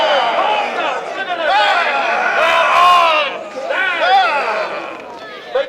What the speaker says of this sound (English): Growling very loudly at the crowd.